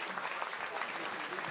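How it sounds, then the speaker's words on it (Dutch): A dense wash of audience applause for a performing group of young performers fills the space, steady and sustained throughout, like many hands clapping together in a hall, with no distinct single claps standing out. "Geef ze nog een groot applaus"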